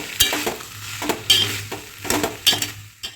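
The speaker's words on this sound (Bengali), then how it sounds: "আর একটু ভালো করে নাড়াচাড়া করে নেব।" A spoon stirs taro leaf curry (kochu shak) in a pan, making loud, close scraping strokes in irregular bursts over a soft sizzle and a low steady hum.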